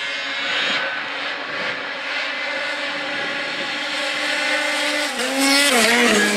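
A turbocharged drag-racing snowmobile roars as it accelerates off the start line, a loud, sustained engine howl that climbs in pitch and grows harsher toward the end.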